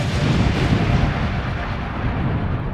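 A Big Bang explosion effect fills the space with a loud, continuous deep roaring rumble that swells and slowly fades without any break.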